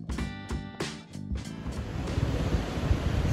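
Surf rolls in at Kudle Beach in Gokarna, a broad beach with shacks along it. After a few brief tonal sounds at the start, a close, rushing wash of waves breaks and spreads.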